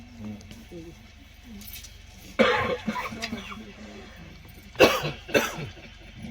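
Two short bursts of coughing a couple of seconds apart, rough and fairly close, over low background murmur.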